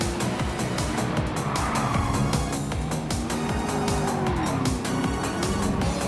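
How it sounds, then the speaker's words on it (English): Race car tires squealing and skidding as the car oversteers through a low-grip corner, with a loud, continuous engine roar and long wavering screeches running throughout. "More oversteer from Brendan"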